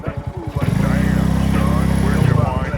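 A Spark 125C-2AM motorcycle pulls away with a loud, close engine drone that holds steady and throbs rhythmically for about two seconds before the note shifts at the end.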